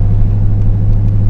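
A 20-year-old Corvette engine fitted with long tube headers, open exhaust and a tune, idling with a loud, steady, low rumble close by, no voices over it.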